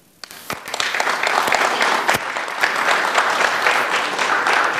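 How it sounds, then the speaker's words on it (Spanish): A large audience at a book presentation breaks into sustained applause, the clapping swelling quickly after a few scattered first claps and holding dense and loud throughout. "son los aplausos de un nutrido grupo de gente"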